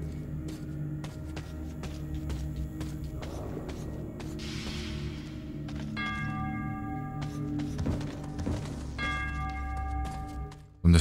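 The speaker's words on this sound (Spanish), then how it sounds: "¿Quién toca esa campana" Bell ringing in the video game Metro 2033 Redux, heard as a few resonant tolls over a steady low drone and clatter of game ambience, fairly distant and continuous throughout.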